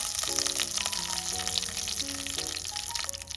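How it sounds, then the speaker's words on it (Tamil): Curry leaves hit hot oil in a pan for a prawn moju, setting off a steady, close sizzle and crackle that runs the whole time. Soft music plays underneath. "இப்போ எண்ணெய் நல்லா சூடேறினதும் நான் இந்த எடுத்து வச்சிருக்கிற கறிவேப்பிலையை போட போகிறேன்"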